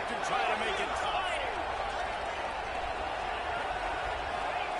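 A stadium crowd at a football game swells into a loud, sustained roar during a two-point conversion attempt for the possible win, dense and continuous throughout, with a commentator's voice over it.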